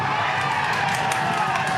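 A steady roar of cheering and shouting fills a packed indoor bowls arena at the Bridlington Spa during an England v Scotland men's final, the crowd noise continuous and loud with no distinct pauses.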